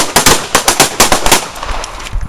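Firearm shots at a carjacking survival shooting workshop, a rapid loud burst of about a dozen close, sharp reports in quick succession, tapering into rougher bangs.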